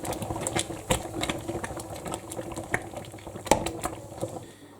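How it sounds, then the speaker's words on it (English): Rhubarb jam simmers in a pan with a constant soft bubbling hiss, scattered pops and low background hum, fairly quiet and close, with no talking. "the rhubarb has now come up to the boil, so we're going to turn the heat down and let that simmer"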